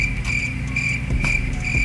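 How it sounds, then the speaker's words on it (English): A cricket sound effect chirps in quick, regular pulses, bright and close, repeating steadily throughout with no voices over it. "I usually play crickets about this time."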